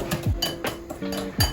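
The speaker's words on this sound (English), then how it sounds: "I'm going to grab a whisk and" A whisk rattles and clinks against a bowl as caster sugar is mixed in, giving a quick series of close metallic taps and scrapes.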